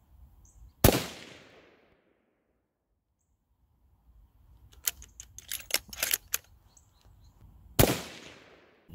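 A rifle firing hand-loaded ammunition cracks out twice, each a sharp loud report with a short decaying tail, several seconds apart, with a burst of faint clicks and handling noise between them.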